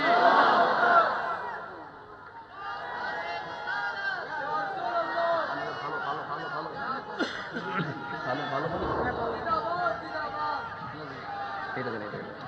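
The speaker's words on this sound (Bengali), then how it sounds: "সকলে আওয়াজ করবেন আল্লাহ আকবার" At a religious gathering, a large crowd chants the takbir 'Allahu Akbar' in loud, massed voices that rise and fall together, with a leading voice and scattered chatter mixed in.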